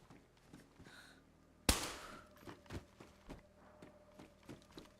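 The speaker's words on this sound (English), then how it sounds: "Oh, gunshot." A single loud gunshot cracks out in the DayZ video game on the Chernarus map, followed by a series of softer, irregular thuds and footstep-like knocks under a faint game ambience.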